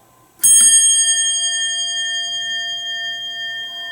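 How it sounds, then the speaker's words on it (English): A Westinghouse elevator bell is struck once, giving a sharp metallic ding that rings out and decays slowly with a long, clear sustain in a quiet room. "Next we have a Westinghouse bell."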